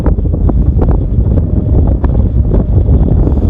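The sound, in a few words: strong wind around a flying drone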